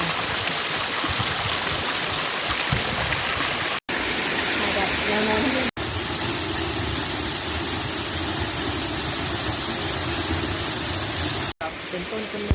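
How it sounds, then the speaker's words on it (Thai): A forest waterfall and clear flowing stream in Mae Wong National Park, Thailand, roaring loudly and continuously close by, a broad steady rush of water with brief cuts. "ค่ะน้ำตก น้ำใสไหลเย็น"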